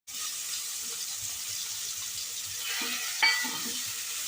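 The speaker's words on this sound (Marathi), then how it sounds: "आता वाटलेला मसाला घालायचा." Ground masala paste hits hot reddened oil for a mutton boti dish, a steady close sizzle and hiss of frying with a short sharp spatter burst near the end, no talk.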